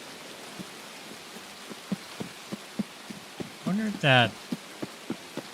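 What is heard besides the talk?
rain in video game Escape from Tarkov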